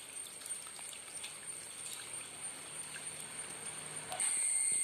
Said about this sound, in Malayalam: റണ്ണറിനകത്ത് വെള്ളം ഒഴിച്ചു കൊടുക്കേണ്ടതാണ്.